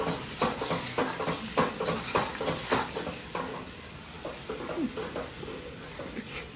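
Chutney masala stirred and fried in oil makes a continuous sizzle, with a quick run of spatula scrapes and clacks that slows and thins toward the end.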